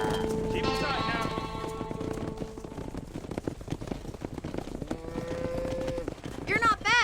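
A cattle herd moos repeatedly in a ranching video game scene, with drawn-out tonal calls, clopping hooves and a busy mix of livestock noise; voices briefly talk over it.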